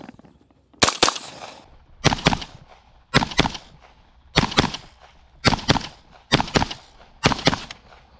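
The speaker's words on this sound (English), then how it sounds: "Let's just see if this BCA 22 mag upper can run on the cheaper ammo." Bear Creek Arsenal BC-22 Magnum rifle in .22 WMR firing Winchester Super X 40-grain rounds: seven loud, sharp shots spaced roughly a second apart, each with a short echoing tail.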